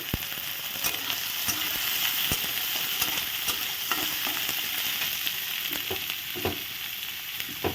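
Chopped onion frying in a pan, a dense continuous sizzle with occasional stirring taps and scrapes, close and steady with no talking.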